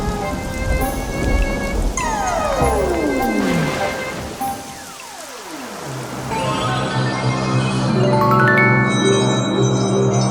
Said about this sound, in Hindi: एक दिन बहुत जोरों की बारिश आई।